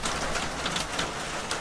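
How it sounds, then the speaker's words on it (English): Rain falls outside a cabin as a steady, even hiss of drops with faint patter on nearby surfaces, continuous and moderately loud, with no talk. "still a-raining"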